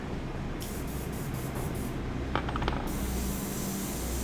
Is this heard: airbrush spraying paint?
yes